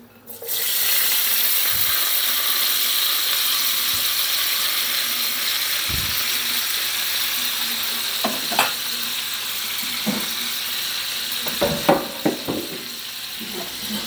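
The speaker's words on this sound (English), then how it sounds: "I've got to add our onion and broccoli and give it a quick cook" Onion and broccoli fry in bacon grease with a steady, close sizzle, joined later by scattered clicks and scrapes of stirring in the pan.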